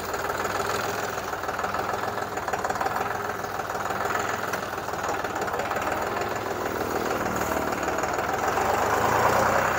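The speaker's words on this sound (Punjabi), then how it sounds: "ਆਵਾਜ਼ ਦਾ ਜਿਹੜਾ ਕਾਫੀ ਜ਼ਿਆਦਾ ਫਰਕ ਹੈ ਟਰੈਕਟਰ ਦਾ।" A Deutz-Fahr Agrolux 50 turbo tractor idles with a steady, close, mid-pitched engine clatter and a faint knocking vibration, holding even in loudness throughout with no talking.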